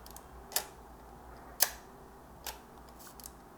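Rolleicord camera's shutter being wound and released, giving a few sharp mechanical clicks and snaps spaced about a second apart, close and crisp against a quiet room.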